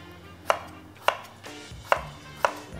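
Knife chopping potatoes on a cutting board for spicy soy-sauce potatoes, four sharp, evenly spaced chops close by with quiet room tone between.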